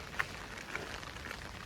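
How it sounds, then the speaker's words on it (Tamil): Light rain starts to fall outdoors on a walking and hitchhiking route in Kerala. Faint, scattered drop patter sits over a soft, steady hiss with no one speaking. "மழை ஆரம்பிச்சிருச்சு."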